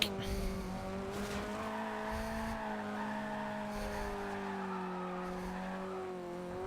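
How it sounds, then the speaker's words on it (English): A Mazda MX5 drifts in Forza Horizon 2, its engine holding a high, sustained note while the tires squeal steadily through a long slide, with a few short bursts of harsher skid noise. "Can get great drifts out of it, no problem."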